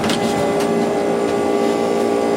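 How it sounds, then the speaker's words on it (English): An Emerson Quiet Kool air conditioner compressor under high head pressure runs with a loud, steady tonal drone and mechanical hum, close by and unchanging throughout. "It sounds like this compressor is under some high head pressure or something."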